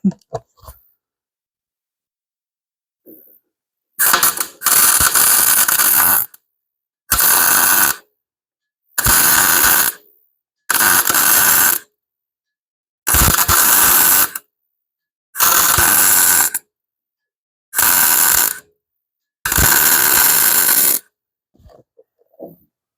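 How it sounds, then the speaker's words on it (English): Loud, harsh crackling buzz of a welder plug welding a frame rail on a 1975 Plymouth Duster, in eight separate bursts of a couple of seconds each, with silent pauses between. "One plug weld done out of 3."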